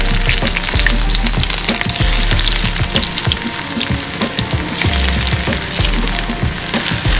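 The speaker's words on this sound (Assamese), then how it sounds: "একেখিনি তেলতে মই এতিয়া দি দিছোঁ ইয়াত নহৰু আদা দিছোঁ" Garlic and ginger frying in reused hot oil in a home kitchen, a loud continuous close sizzle with bursts of crackle and some stirring, and no voices.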